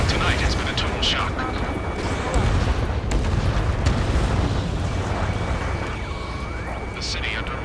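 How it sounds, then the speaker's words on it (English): Continuous rumbling combat noise from the Ace Combat 7: Skies Unknown video game, with booming explosions, gunfire and the roar of jets over a city under martial law, heavy and unbroken throughout. "Gunfire and the roar of jets echoing through the streets."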